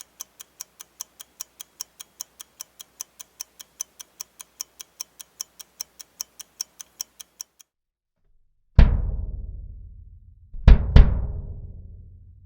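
Kick drum with pillow stuffing inside, struck twice: two loud deep thuds with short decaying boom, following a long run of even ticking clicks earlier on.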